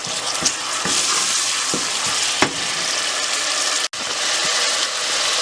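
Masala and tomatoes fry in a pan with a loud, steady sizzle. Occasional scraping stir strokes and one brief dropout break it, and nobody speaks.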